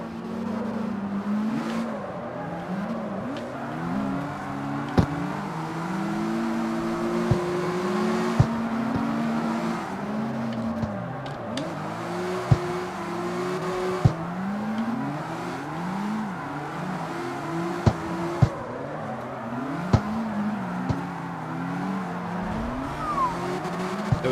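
Racing cars in the CarX Street video game rev hard and drift, engine notes rising and falling in repeated sweeps with tire squeals and clicks, loud and continuous throughout.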